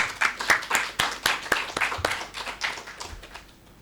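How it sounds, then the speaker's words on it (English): Audience in a workshop session clapping together, a brisk run of sharp hand claps at a steady rhythm that thins out and fades toward the end. "I think we should clap for ourselves for this wonderful effort"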